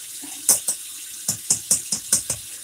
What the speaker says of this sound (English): you keep your water running a bit